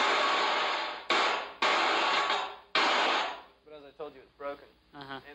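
Snare drum hits picked up by a microphone and triggering an electronic drum sound device, heard as a few loud, sharp, reverberant bursts followed by quieter rattling hits, with no talk.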